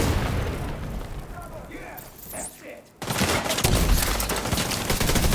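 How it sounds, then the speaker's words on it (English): A grenade explodes in The Division 2 amid heavy gunfire: dense shooting gives way to a brief lull with a whistling tone, then a sharp blast triggers loud, rolling fire and booms. "Got a grenade out. Where's it gonna land?"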